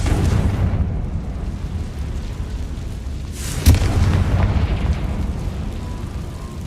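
Confringo fire spell going off in Hogwarts Legacy, a loud rumbling blast rising into one sharp burst midway over a dense, continuous boom-heavy game soundscape.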